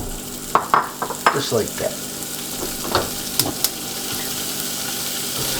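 Sausage sizzles steadily in a hot pan while a spoon breaks it up, giving bursts of scraping and knocking over the continuous frying hiss; a voice speaks briefly.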